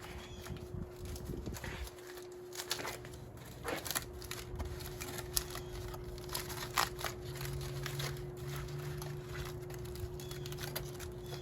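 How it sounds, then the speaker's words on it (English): Foil wrapping around grilled carrots is peeled back by hand, giving faint, scattered crinkles and rustles over a quiet steady background hum. "So let me just unwrap the rest of them."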